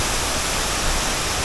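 Broadband rushing water pours steadily from a waterfall on a warm day, a dense, constant roar close by with no pauses, and no one talks over it.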